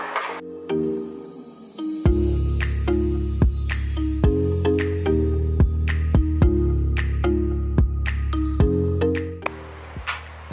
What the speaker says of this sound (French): Je mets tout dans mon petit mixeur.